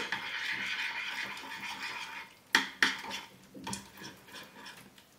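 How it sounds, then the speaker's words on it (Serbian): Lard and oil being mixed together in a bowl for pie dough. Soft scraping and stirring are broken by a few sharp clinks and knocks of a utensil against the dish. "Sjedinite mast i ulje ili puter i ulje."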